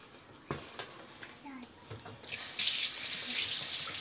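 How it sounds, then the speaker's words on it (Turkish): Hot water runs from a kitchen tap while bread dough is being made at home; it gushes on loudly and steadily partway through after some faint clatter, with a voice briefly heard nearby. "Sıcak suyumu da alayım."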